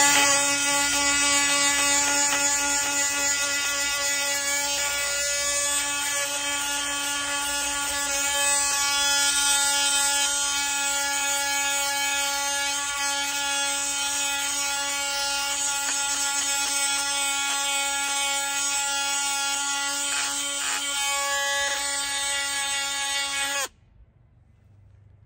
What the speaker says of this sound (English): I just want to show you this multi-tool. This is the best tool for sanding I ever bought